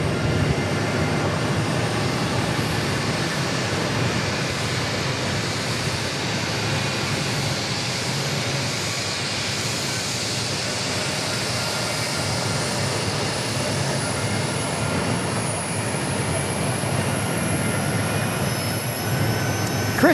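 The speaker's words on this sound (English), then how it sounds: "as we check out this Learjet 75 landing" A Learjet 75 lands at Phoenix Sky Harbor, a sustained loud jet roar with a broad rushing hiss and a slowly rising whine, holding steady for about twenty seconds with no talk.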